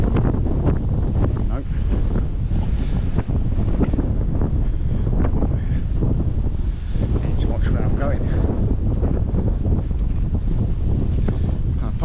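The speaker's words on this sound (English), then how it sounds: "I apologise about the wind" Strong wind buffets a camera microphone on a river bank in the Nene Valley, producing loud, continuous rumbling gusts while someone speaks briefly through it.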